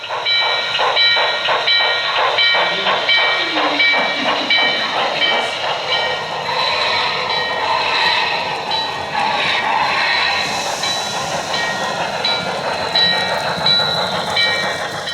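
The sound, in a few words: model steam locomotive train running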